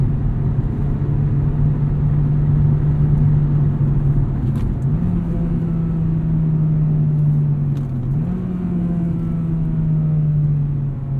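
A 2006 Acura RSX Type-S drives along, its engine giving a loud, steady in-cabin drone that steps up in pitch twice as the revs change, with road rumble underneath and no talking.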